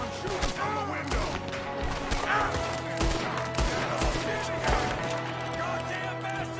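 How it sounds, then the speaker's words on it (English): Gunmen firing from a window in Red Dead Redemption 2 trade shots amid a busy game mix: scattered sharp reports and thumps over music and voices, close and fairly loud throughout. "There's another one shooting from the window."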